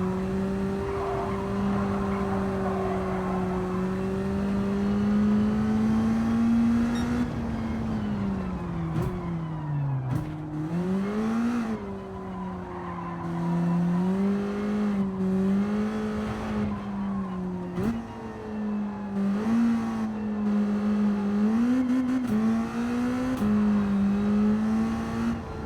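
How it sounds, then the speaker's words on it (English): A race car in Gran Turismo 7 driven with a steering wheel: a loud, close engine note climbs and drops repeatedly through gear changes and throttle lifts, with brief squeals and scrubbing noise at moments. "God, this thing accelerates like a Formula 1 car"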